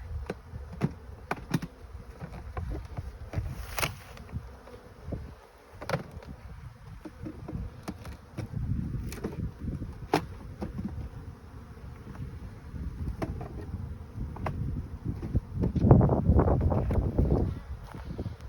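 Honey bees buzz over an opened beehive in a steady, close hum, with a few louder individual bees passing the microphone.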